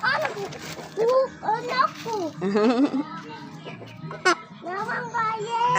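Chickens clucking close by while children talk and chatter over them throughout.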